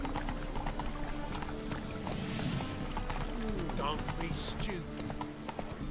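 Roach the horse's hooves clip-clop in a steady rhythm in the Witcher 3 game, close by and mixed with in-game voices speaking over the footfalls.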